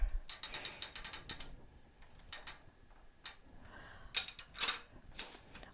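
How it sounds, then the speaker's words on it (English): A ratcheting quilting frame clicks and clatters as a large Lone Star quilt is rolled forward, with quick bursts of mechanical ticks and ratchet catches, close and fairly quiet, with no talking. "I'm going to roll the quilt a little bit."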